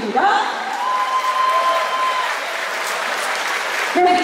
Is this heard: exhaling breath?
no